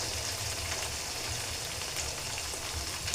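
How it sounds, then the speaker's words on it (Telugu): Three eggs fry in a hot pan for fried rice, giving a close, steady sizzle with a low rumble beneath and no voices. "నేను త్రీ ఎగ్స్ అయితే తీసుకొని అందులో వేసుకుంటున్నాను"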